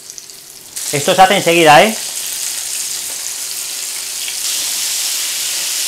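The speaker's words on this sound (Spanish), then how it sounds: "una vez tenemos listo el aceite, así, freímos los gambones" King prawns deep-fry in hot oil in a wok with a steady, loud sizzling hiss. It carries on after a short spoken remark near the start.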